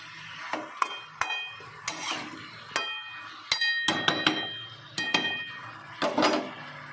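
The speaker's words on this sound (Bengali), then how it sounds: "ঢাকনাটা খুলে আবার একটু নাড়িয়ে দেবো" Potato and cauliflower curry, a Bengali vegetarian dalna, stirred in a covered pan: a spatula clinks and scrapes against the metal in irregular taps, fairly faint, with a light sizzle underneath.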